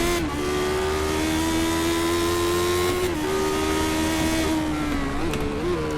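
A Lotus 79 Formula 1 car engine in the iRacing sim at Bathurst drones loud and steady, its pitch holding high with slight dips and rises through gear changes and no voices.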